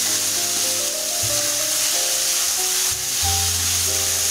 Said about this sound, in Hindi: तेल गरम हो गया है, अब हम इसमें कटे हुए प्याज डालेंगे।